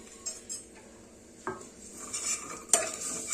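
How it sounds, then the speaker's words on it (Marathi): Dry nuts, cashews, almonds, pistachios and charoli, roast in ghee in a pan, with a soft sizzle under scraping stirs and a few metallic clinks of a spoon against the pan. "हे देखील तुपावर छान असं आपल्याला भाजून घ्यायचं जेणेकरून त्यामध्ये छान असा एक क्रंचीनेस असतो"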